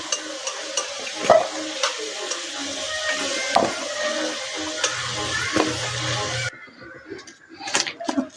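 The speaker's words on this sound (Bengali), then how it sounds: "আলুটা আমার ভাজা ভাজা হয়ে গেছে, আমি আলুটা তুলে নেব।" Potatoes fry in oil in a pan while being stirred, giving a steady sizzle with repeated scraping knocks of the utensil; near and fairly loud, then the sizzle drops away as the pan quiets.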